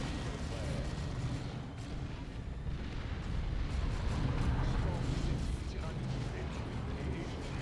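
Artillery barrage in the video game Dawn of War 2: dense continuous rumbling booms and blasts over a steady roar, loud throughout, with a voice talking over it.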